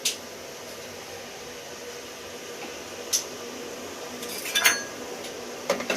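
A spoon clinks a few scattered times against a cooking pot while stirring oil, salt, cardamom and cloves for chicken boti biryani, faint and close over a soft steady hiss, with no voices.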